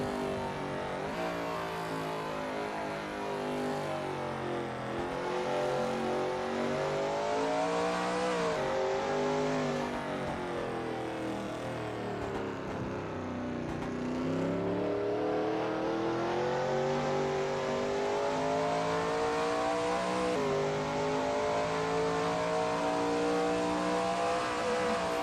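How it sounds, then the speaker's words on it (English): A Shelby Mustang GT350R race car engine in a racing video game at Zandvoort, loud and continuous, revving up and down through gear changes and swelling and falling pitch for the whole stretch, with no talk over it. "That ASRL Shelby Mustang GT350R looks good driving through Scheibach."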